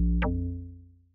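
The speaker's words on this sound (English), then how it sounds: "Then the log drum." A single deep amapiano log drum hit from an FL Studio sound kit preset, a booming tuned low note with a sharp pitch swoop that decays slowly, heard alone and close.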